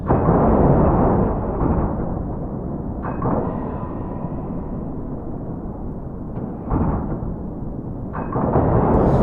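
In a naval video game, a submarine launches a guided missile from below the surface: a heavy, muffled roar with several booming surges and metallic clangs, loud and sustained throughout.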